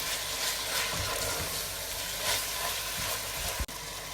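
Meat browns in a pan for lasagna with a steady, close sizzle and occasional stirring scrapes, ending in a single sharp clunk.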